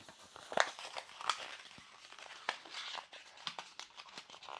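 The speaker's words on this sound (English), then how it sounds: "I'm going to crumple this up." Scrapbook paper being crumpled by hand close up, giving irregular crinkling and crackling bursts that rise and fall over several seconds without talk.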